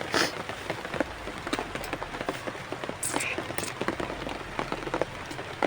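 Steady patter of rain on a surface with scattered drops ticking nearby, a continuous wash of noise throughout.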